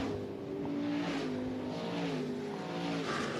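Stock cars race down the back straightaway at a speedway, a sustained engine roar from a pack of cars heard at a distance, steady and unbroken throughout.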